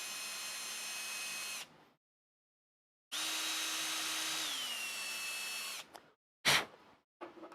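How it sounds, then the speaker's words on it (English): A power tool whirs steadily as a 4mm reamer cleans out a hole in a RatRig V-Core 4 printer part, in two runs with a pitch drop partway through, then a short burst and scattered noises. "I'm just going to come in here with my 4mm reamer, clean out what I can."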